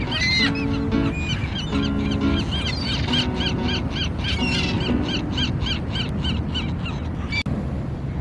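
Seagulls crowd around on a beach, calling loudly and repeatedly in a dense, overlapping chorus of squawks and honking cries, close by and continuous throughout.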